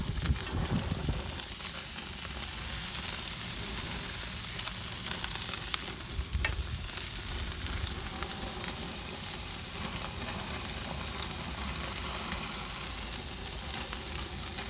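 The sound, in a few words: shrimp and sirloin sizzling on the grill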